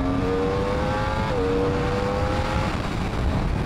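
A 2020 Yamaha R1 sport motorcycle engine revs high and climbs in pitch, dips briefly as a gear changes, then continues pulling strongly, fairly close and loud.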